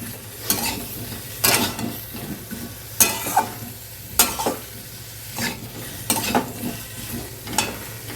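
Stirring and frying in a pan while making chicken stew, with regular scraping strokes about once a second over a steady low sizzle, close and clear with no talking.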